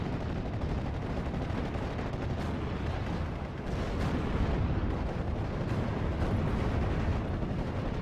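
Artillery barrage pounding a town in the WWII strategy game Steel Division 44, with German Panzers nearby: a loud, dense, unbroken rumble of overlapping blasts that runs the whole time with no talk.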